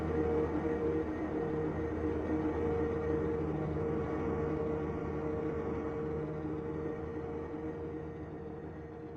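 A train creeping in within the video game L-SO, sparks coming off its wheels: a steady, fairly loud low rumble with a faint metallic whine, slowly fading slightly toward the end.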